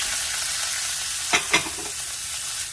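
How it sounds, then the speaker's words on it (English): Sliced peppers and onions sautéing in a pan, a steady soft sizzle broken by two quick stirring scrapes near the middle, with no talking. "Now I'm going to quickly saute my sliced peppers and onions."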